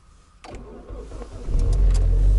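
An automatic car is cold-started at minus 23°C in a Canadian winter: a brief cranking stutter, then the engine catches and rises into a loud, rough, deep idle that grows stronger.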